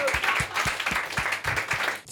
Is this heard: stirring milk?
no